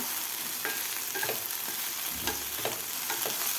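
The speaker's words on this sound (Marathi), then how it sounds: "आता आपण झाकण काढून याला परत एकदा आपण मिक्स करून घेऊया" Okra (bhendi) frying in an open pan, being stirred: a steady close sizzle with scraping strokes of a spoon against the pan, no voices.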